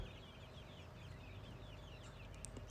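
Home-hatched native chicks, grey and spotted breeds about one and a half months old, chirp and cluck continuously in a busy flock over a low steady rumble.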